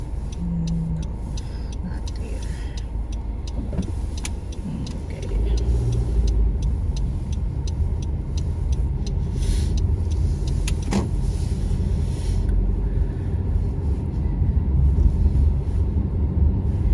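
A car driving on a road in Canada, a steady low engine and road rumble from inside the cabin that rises slightly as the car turns left, with no one speaking.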